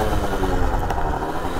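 A Gilera SMT motorcycle engine runs steadily at close range, a dense, even mechanical drone with a low rumble throughout and no talk over it.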